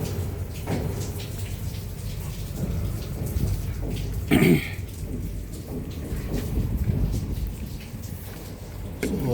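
Steady rain falls around an elevated water tank, a dense even hiss with a distant thunder rumble swelling briefly midway, no voices.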